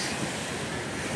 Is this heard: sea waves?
yes